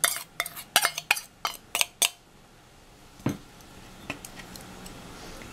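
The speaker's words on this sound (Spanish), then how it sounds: "Revolvemos todo muy bien." Tuna salad with olive-oil-sautéed onion and cilantro being stirred, a utensil clinking against the bowl in a quick run of sharp taps, then a few scattered clicks with quieter scraping.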